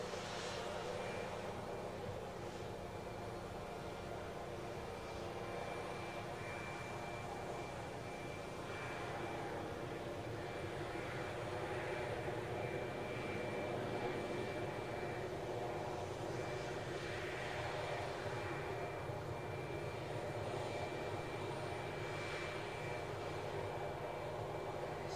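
A Boeing 737 Max 8 at Glasgow airport gives a steady jet engine drone that runs moderately loud and unbroken, with faint talk now and then in the background.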